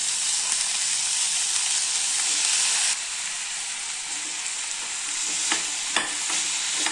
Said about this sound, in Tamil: இப்போ நம்ம வாழைக்காயை போட்டுக்கலாம்.